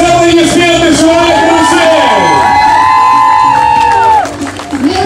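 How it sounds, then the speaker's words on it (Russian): Audience at a corporate stage show applauds and cheers loudly and continuously under a sustained musical backdrop, with crowd noise and whoops, fading slightly near the end. "Ваши аплодисменты"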